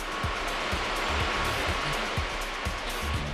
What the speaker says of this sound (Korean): 지게차 소리가 끊임없이 이어지는 건물 안으로 들어가 보니